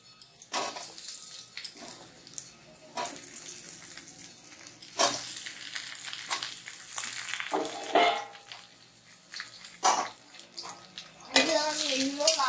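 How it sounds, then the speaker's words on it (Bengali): Cut eggplant pieces frying in hot oil in a kadai, with bursts of hissing sizzle and clatter coming and going, a voice briefly heard at times. "দিয়ে আমি সব কেটে রাখা বেগুনগুলো এবার দিয়ে দিচ্ছি তেলে"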